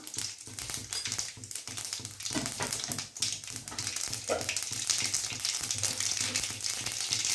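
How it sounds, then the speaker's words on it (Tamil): Mustard seeds and cumin sizzle in hot oil for a sambar tempering, a busy crackle with rapid tapping pops over a steady hiss, close and fairly loud. "எண்ணெய் ஊற்றிக்கலாம். கடுகு போட்டுக்கலாம். சீரகம் போட்டுக்கலாம்."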